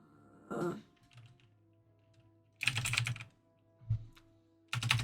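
Bursts of clattering keystrokes on a computer keyboard, two or three quick flurries with pauses between, close and fairly loud.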